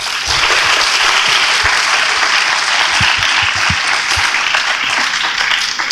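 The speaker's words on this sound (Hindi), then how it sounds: "उसके ऊपर एक तालियां बजनी चाहिए।" An audience at a panel discussion on the National Education Policy 2020 at Sanskardham breaks into loud, sustained applause that fills the room evenly throughout.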